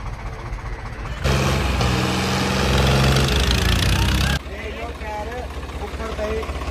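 A tractor engine idles before a tractor tug-of-war, a steady low diesel chug that swells louder for a few seconds and then settles back, with voices talking over it.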